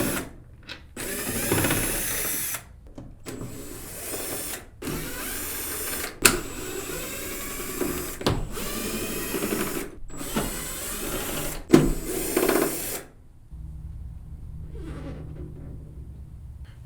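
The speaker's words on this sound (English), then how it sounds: "There's two number 2 Phillips screws on one side and 6 on the other side." Power screwdriver backing out number 2 Phillips screws from a Minn Kota Talon Bluetooth motor housing, in repeated bursts of loud whirring and ratcheting separated by short pauses, then stopping before quieter handling noises, with no talking.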